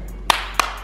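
Two sharp hand claps about 0.3 seconds apart, close and crisp over a steady low background hum.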